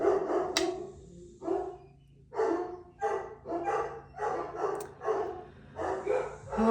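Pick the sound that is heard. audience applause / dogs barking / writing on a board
dogs barking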